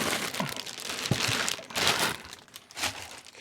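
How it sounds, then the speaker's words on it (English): A plastic bag being pulled out of the packaging of a Mondo 1/6th scale Trap Jaw deluxe figure, with close, loud crinkling and rustling in several bursts and no talk. "So it does come in a plastic bag. I have to take that out."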